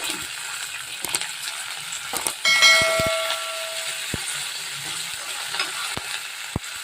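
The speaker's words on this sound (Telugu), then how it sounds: "కొద్దిగా అవి కలర్ వచ్చే వరకు వేయించుకోవాలి. ఇప్పుడు కొద్దిగా కరివేపాకు కూడా వేస్తున్నానండి." Cumin, mustard seeds, chana dal, urad dal and curry leaves fry in hot oil as a steady, crackling sizzle with scattered sharp pops and a brief louder burst near the middle.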